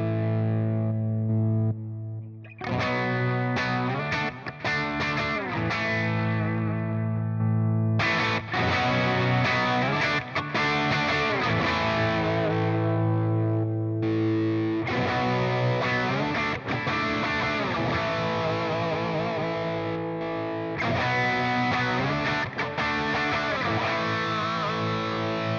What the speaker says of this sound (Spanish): Estos son los overdrives.